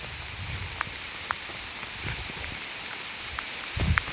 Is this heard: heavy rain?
yes